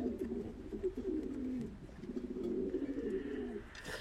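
Pigeons kept in boxes coo softly in low, rolling murmurs, repeating in short throaty bursts close by, with faint background noise and no talking.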